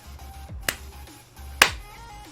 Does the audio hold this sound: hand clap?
yes